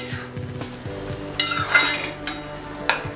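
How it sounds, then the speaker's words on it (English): Grated tomatoes go into a pan of frying potatoes and get stirred, with soft sizzling under a few sharp metallic clinks and scrapes of a utensil against the pan, close and fairly quiet. "The aloo now seem to be done, so I'm going to add the grated tomatoes."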